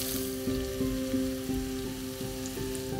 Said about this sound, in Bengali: এবার এখানে ফ্লেমটাকে হাই করে আমি ভালো করে পেঁয়াজটাকে ভেজে নেব